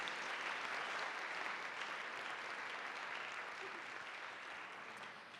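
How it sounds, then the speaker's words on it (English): Warm, steady applause from a forum audience, dense and continuous clapping that fills the room at a moderate level before gradually tapering off toward the end. "Please join me in a warm round of applause for all of them."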